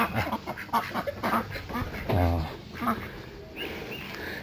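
Ducks quack in a loose series by a scenic teahouse area in Taksar, Bhojpur, moderately close, mixed with soft background voices and outdoor ambience.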